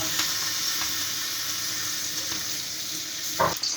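Onions frying in soybean oil while being browned for a chicken curry, giving a loud, steady close sizzle, with a brief stirring scrape near the end.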